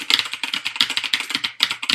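Mechanical keyboard with blue switches, loud keycaps and a metal deck, typed on in a quick, steady run of sharp clicky keystrokes, close and alone.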